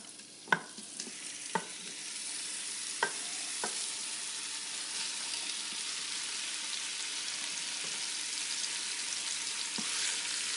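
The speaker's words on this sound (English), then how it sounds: "I've got a little bit of olive oil in the bottom of the pressure cooker here. And I'm just going to go ahead and add my beef." Beef browns in olive oil in the bottom of a pressure cooker, making a steady, fairly soft sizzle throughout, punctuated by a few sharp clicks and taps of a utensil early on and near the end.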